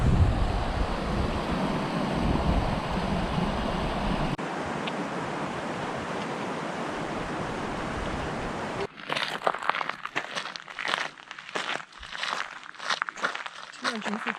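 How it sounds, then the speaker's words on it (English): Water running through a creek after recent rain, a steady broadband rush heard alongside wind noise on the microphone, with the sound shifting as the recording moves and turning more gusty and uneven near the end. "Water running, isn't it?"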